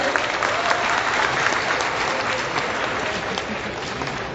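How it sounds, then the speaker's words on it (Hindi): Audience at a Holi kavi sammelan poetry gathering clapping, a loud, continuous roar of many hands that stays steady from start to finish without any speech over it. "तो अनुमति दीजिए मुझे तालियां बजाकर।"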